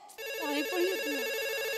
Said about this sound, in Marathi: या ना लवकर, फोन वाजतोय.